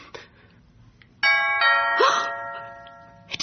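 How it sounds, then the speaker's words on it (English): Two-tone doorbell chime rings once, a bright ding followed by a lower dong, sustained and slowly decaying in a quiet room, with faint shuffling before and after. "The doorbell's never rung before."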